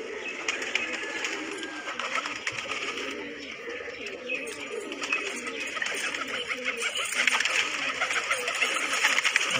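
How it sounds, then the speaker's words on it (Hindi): Soft cooing of fancy pigeons in India blends into a busy bird-filled backdrop of chirps and rustling, steady and moderately loud throughout. "कबूतर की पंछी की आवाज़"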